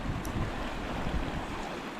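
Broad rushing wash of a fast-flowing river swollen with floodwater at Blue Pools, Briagolong, in stormy weather, a steady close roar with gusty wind buffeting across it throughout.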